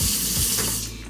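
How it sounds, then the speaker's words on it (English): Tap water runs onto a paper towel to dampen it, a steady close hiss of flowing water with faint clicks and handling noise beneath, tapering off near the end. "you wet the paper towel, make it damp"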